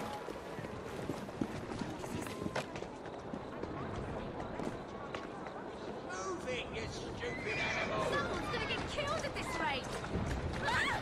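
A horse in the video game Assassin's Creed Syndicate whinnies and trots, hooves clip-clopping at a steady pace beneath a moderately quiet mix of game sound, with some whinny-like calls rising near the end.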